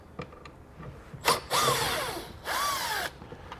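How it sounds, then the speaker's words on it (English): A power driver fitted with a T15 Torx bit backs out a taillight bolt on a 2020 Buick Envision, firing in two close, fairly loud whirring bursts of about a second each, with small clicks leading in. "Behind that, we're going to have a bolt we're going to remove with the T15 Torx."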